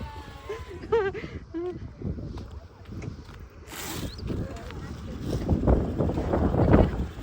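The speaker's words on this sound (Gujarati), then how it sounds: "પવન જોરદાર છે" Strong wind buffets the microphone at a farm, a rough rushing roar that swells toward the end, with voices and a few clattering sounds mixed in.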